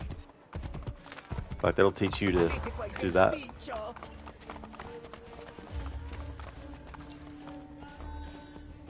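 Hooves clip-clop in a quick galloping rhythm while someone talks over them, the hoofbeats fading toward the end; a horse ridden through a city in the video game Assassin's Creed Brotherhood.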